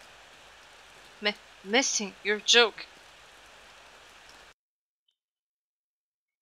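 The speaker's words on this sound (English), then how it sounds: "It was a rainy after school day. Just like this." Steady rain falls throughout a scene in the horror video game Corpse Party Rebuilt, a soft continuous hiss under a short spoken exchange, then cutting off abruptly to silence.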